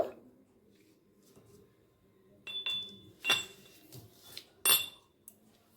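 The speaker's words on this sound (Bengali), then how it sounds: "নিয়েছি চারটে এলাচ আর জায়ফল জায়ফলের একটা ছোট টুকরো এটাকে আমি একটু থেঁতো করে নেব" Cardamom pods and a small piece of nutmeg crushed in a mortar: a few sharp clinking knocks in quick bursts, close by, after a quiet start with faint background hum.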